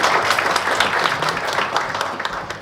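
Audience applause at a panel seminar on the semiconductor industry as professors are welcomed onto the stage, a steady dense wash of many hands clapping at moderate volume without a break.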